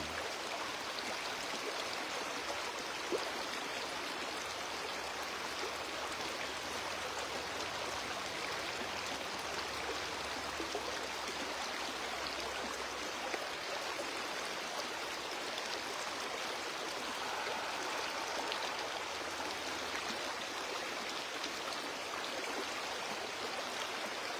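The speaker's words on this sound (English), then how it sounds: "as you hear the sound of this beautiful river" A steady, full rush of flowing river water, continuous and even throughout, with no voices.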